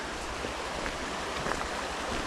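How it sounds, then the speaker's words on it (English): Steady broadband rush of Rausch Creek's flowing water beside a trail at Rausch Gap, Pennsylvania, an even, continuous wash with no talk. "Been following Rausch Creek for a little while."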